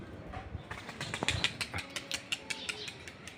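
A homing pigeon flies in and lands, wings flapping in a run of sharp, rapid claps that come close and fairly loud, then settle into lighter flutters.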